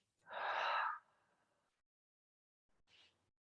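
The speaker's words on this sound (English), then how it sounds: "Draw breath in through your nose. Nice big exhale out of your mouth." A big breath pushed out through the mouth during a breathing exercise, one loud breathy rush about a second long, then a much fainter short breath a couple of seconds later.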